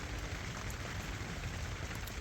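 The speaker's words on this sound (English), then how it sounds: "it's raining right now" Steady rain falling in the woods near Salem, a dense continuous hiss of drops on leaves and surfaces, close and even throughout with no talking.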